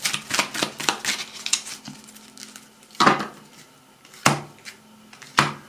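Tarot cards cut and shuffled by hand on a table: a rapid riffle of crisp paper flicks, then three sharp separate slaps as the cut piles are set down, close and fairly loud with no talking.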